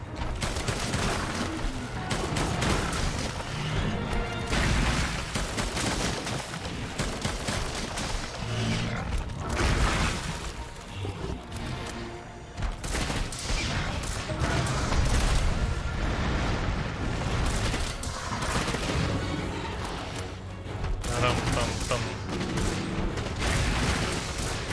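Rapid, dense bowgun fire in Monster Hunter World: Iceborne, a loud continuous barrage of shots and mechanical clatter running the whole stretch with no letup.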